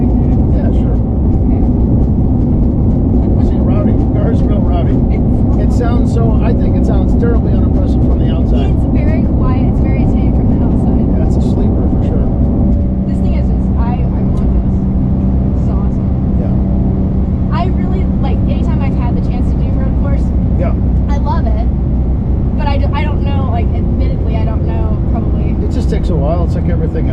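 A loud race car engine roars and rumbles continuously at close range, with bursts of revving and crackle, while people talk over it.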